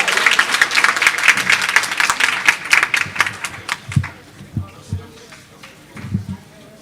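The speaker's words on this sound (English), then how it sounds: "Let's have one more round of applause for all of our departmental winners." A room of guests claps for departmental award winners at a school convocation breakfast and awards event, dense applause that thins into scattered, louder individual claps toward the end.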